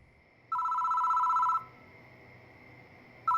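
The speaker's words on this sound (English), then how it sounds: "The phone rings." A telephone in a video game rings with a steady electronic double-tone trill lasting about a second, then falls quiet before the next ring begins.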